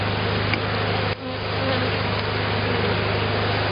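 Honeybees buzz during a hive inspection, a loud, dense, steady drone close at hand with a faint low hum underneath and one brief dip near the start, no talking.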